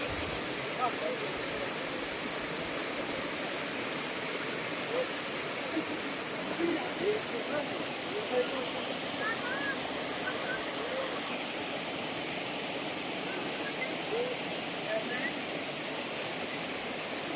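Waterfall at the Cascade des Tufs, a steady broadband rush of falling water heard from nearby, continuous and even throughout without pauses.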